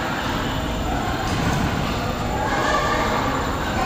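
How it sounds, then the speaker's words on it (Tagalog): Train at Sun World Ba Na Hills, heard from on board as a steady, loud rumbling roar of rolling wheels and cabin vibration that holds constant throughout. "Ayan yung train"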